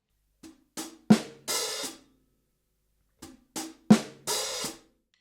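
Sparse drum strokes, a soft kick and taps followed by a brief open hi-hat splash, played twice in short phrases with silence between.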